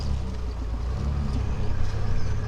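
A classic Triumph Vitesse crossing speed humps gives a steady, close, low engine rumble with road noise that swells slightly toward the end.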